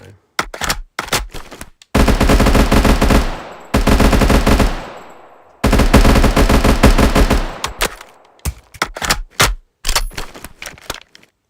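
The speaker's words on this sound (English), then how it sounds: "It's probably the only SMG that I'd use ever in a practical situation." A submachine gun in a Minecraft Bedrock mod fires loud, close bursts: first scattered single shots, then several long continuous sprays, and finally more short, rapid volleys.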